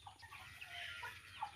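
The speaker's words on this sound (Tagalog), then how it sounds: "kumakain na po yung mga manok." Chickens cluck softly and peck nearby in a brief, quiet moment of feeding, with faint scratching and low background noise.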